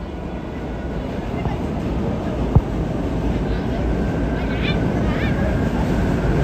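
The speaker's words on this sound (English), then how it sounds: "That's the subway that you hear rumbling underneath." Low subway train rumble passing beneath a New York City street in Manhattan, a steady broad roar through the whole stretch with one sharp knock midway and faint higher squeals near the end.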